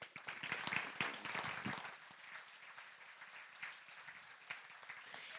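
At a charity gala, the crowd claps for a family coming on stage. The applause is strongest in the first two seconds, then thins to scattered, fading clapping.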